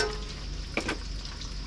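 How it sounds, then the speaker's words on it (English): Fish deep frying in oil in a wok over a gas burner, a faint, steady sizzle and bubbling with a brief louder crackle near the middle. "we don't have a lot of area in that wok that we're deep frying in"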